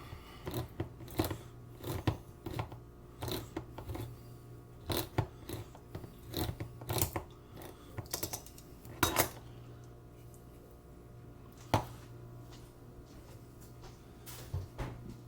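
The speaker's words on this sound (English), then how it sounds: "get our handy dandy can opener. Crack these boys open" A handheld can opener working through cans for a sugar-free pumpkin pie, close metallic clicks and cranking bursts in an uneven rhythm, with a few kitchen clatters and no talking.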